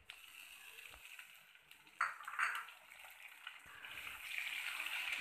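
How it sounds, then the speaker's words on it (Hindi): Chopped tomatoes and green chili fry in a pan for poha, giving a soft, steady sizzle with a few stirring scrapes that grow louder toward the end. "और इसको अच्छे से फ्राई करेंगे।"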